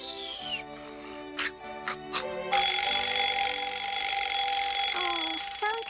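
A cartoon alarm clock goes off in the Strawberry Shortcake series, a few short tones giving way to a loud, steady, continuous ringing that lasts to the end.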